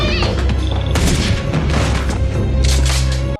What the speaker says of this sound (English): there's about to be a bunch of shooting and people getting hit with bullets